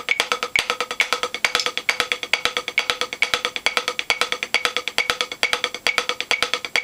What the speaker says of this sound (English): Okay, so I'm just doing like a triple stroke on my left hand.